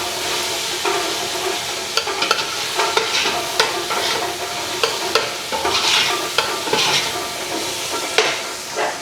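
Onions and pork sauté in a hot pan for bitter melon, a loud close sizzle running throughout while a spatula stirs and scrapes in frequent uneven strokes, with no voices.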